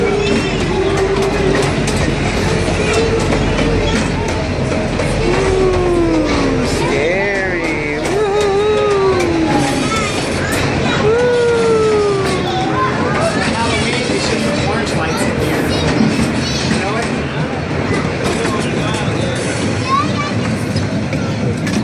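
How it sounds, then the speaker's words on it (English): A steady rumble and rattle of the small Zilker Park train in Austin rolling along, with voices chattering and children calling over the constant clatter. "Thank you so much for riding the Zilker Park train"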